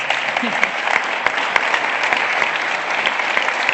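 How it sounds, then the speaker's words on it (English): An audience at a Canadian Club Toronto leadership event gives a steady round of applause, dense and even, with a few sharper claps standing out, continuing throughout. "Ladies and gentlemen, let's give it a round of applause"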